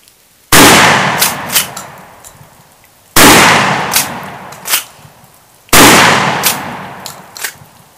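A Benelli Nova Tactical pump-action shotgun fires three loud, sharp blasts spaced a few seconds apart, each one followed by a rolling echo and the fainter clack of the pump action.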